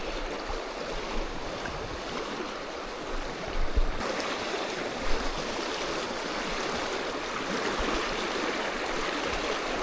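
A shallow river, the first tributary of the River Tweed, rushes steadily in a continuous broad wash of flowing water, close by and unbroken, with no talking.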